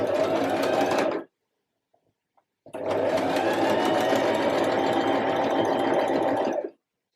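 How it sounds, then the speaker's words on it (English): A sewing machine runs a zigzag stitch down a fabric edge in two steady, fast, whirring bursts, close and alone, separated by a short pause. "I'm just going to sew straight down this edge with my zigzag stitch"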